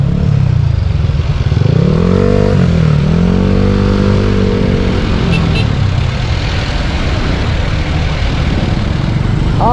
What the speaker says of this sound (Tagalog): Ay, traffic, traffic